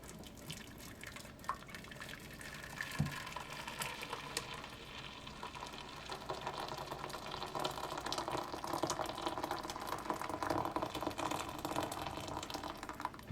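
Water pours into a container holding a little soap, a continuous splashing and trickling stream that fills and grows slightly fuller and louder as it goes, with no voices.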